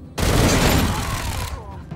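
Burst of rapid gunfire during turn-based combat in the Wasteland 3 video game, a loud dense volley lasting over a second before tapering off, with no talk over it.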